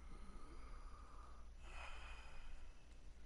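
Patient breathing during a doctor's examination in Red Dead Redemption 2, a single quiet, soft breath drawn in and let out close by, with no talk.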